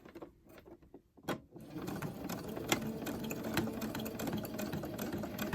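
A sewing machine stitches a fitted fabric face mask with a metal nose piece inside, starting with a few hesitant clunks, then running in a fast, steady mechanical chatter close by.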